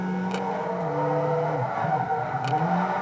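A Nissan Silvia drifting in Forza Motorsport 2, engine tone rising and dipping as the throttle is worked through a slide, fairly quiet and steady with faint tyre hiss, no talking.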